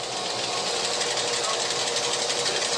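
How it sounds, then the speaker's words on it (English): High-powered polisher lapping silicon wafers, a loud steady whirring machine drone with rapid mechanical chatter, close and continuous. "After a twirl in this high-powered polisher, they are still not smooth enough."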